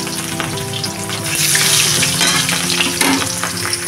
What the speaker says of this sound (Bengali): কড়াইয়ে আমি অল্প অল্প করে ভাজবো